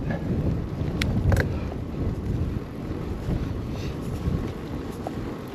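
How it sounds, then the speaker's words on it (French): Wind buffets the microphone in low, uneven rumbling gusts while cycling into a headwind, with a few faint clicks and taps on top and no speech. "Le vent s'est un peu levé là de face."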